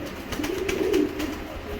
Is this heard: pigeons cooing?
yes